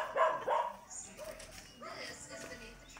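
A Siberian Husky, a large breed, gives a few short barks and yips close by, mixed in with people talking nearby.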